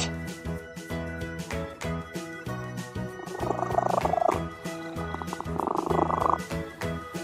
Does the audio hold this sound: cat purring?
yes